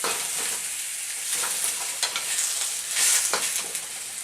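Ingredients for a Thanksgiving stir-fry cook in a pan with a steady sizzle and fry, broken by brief scraping bursts of stirring, close and fairly loud, with no one speaking.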